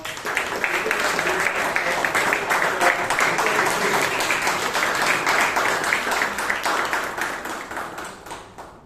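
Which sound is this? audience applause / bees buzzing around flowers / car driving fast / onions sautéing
audience applause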